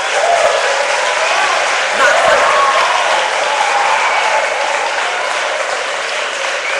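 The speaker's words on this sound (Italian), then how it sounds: "Un applauso dagli studenti." Students applaud at a university lecture event, a steady, dense wash of clapping from a large seated audience that holds at even loudness for the whole stretch.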